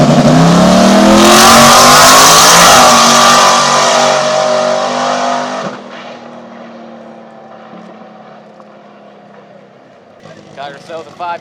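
A drag race car blasts off down the strip, a very loud roaring engine with rising pitch that holds for several seconds, then fades away into the distance before faint crowd voices near the end.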